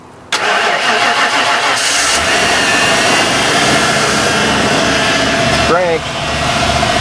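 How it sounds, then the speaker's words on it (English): A car engine cranks and catches after the ignition key is turned, then settles into a loud, steady idle close by. "Key in the ignition first."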